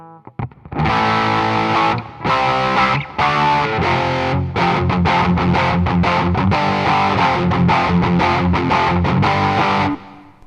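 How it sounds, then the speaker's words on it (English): Heavily distorted electric guitar chords through a Boss Overdrive/Distortion pedal ring out loud and steady, with quick rhythmic chugging strums and a thick saturated tone. "So this is how the Overdrive Distortion sounds, completely flat"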